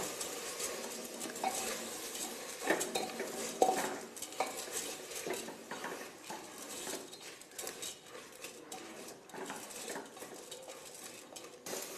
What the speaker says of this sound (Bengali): এবার দিয়ে দিচ্ছি ভেজে রাখা চাল ভালোভাবে সবজি আর মশলার সঙ্গে চালটা মিশিয়ে নেব